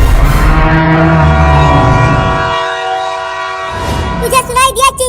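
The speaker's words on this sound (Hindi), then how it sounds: "ट्रेन आ रही है। अभी अभी वो सीटी मारी।" Loud, close train horn of an approaching train blares in a long sustained tone, fading briefly then returning, with rumbling rail noise beneath and a brief warbling sound at the end.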